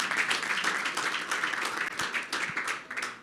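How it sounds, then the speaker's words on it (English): An audience at a founders' talk breaks into applause, a dense, steady wash of many hands clapping at close range that continues without pause. "Guys, give him a round of applause."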